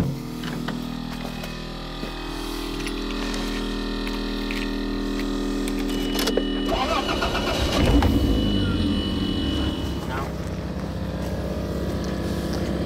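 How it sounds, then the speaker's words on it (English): A truck engine out in snowy Wyoming cranks and catches, and a loud, steady idle runs throughout. The engine rumbles close by and roughens as it revs up partway through. "But I think I better start the truck so I don't drain it."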